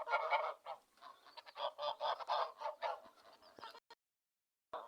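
A flock of farm geese honks loudly in busy, overlapping calls for several seconds, then the sound cuts to silence.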